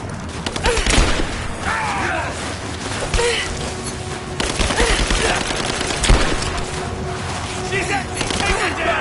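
Gunfire in the video game Rise of the Tomb Raider: dense, rapid bursts of shots and crashes rattle on throughout, with voices calling out over the shooting.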